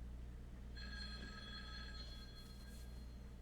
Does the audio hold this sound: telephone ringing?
yes